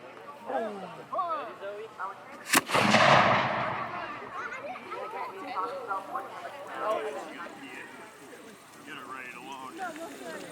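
One sharp three-pound cannon shot cracks out and rumbles away at a Revolutionary War reenactment, with a crowd of voices talking continuously around it.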